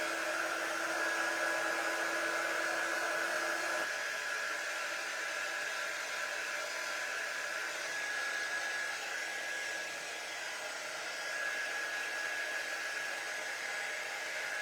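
A hair dryer blows a steady, even whoosh at close range while drying a damp stuffed toy, its tone shifting slightly partway through, running continuously with no talk.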